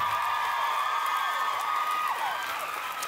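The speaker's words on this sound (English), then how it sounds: "So give yourself a round of applause." Crowd cheering and clapping at a pole dance event, a dense, sustained wash of applause with scattered whoops and shouts throughout, loud and steady with no pause.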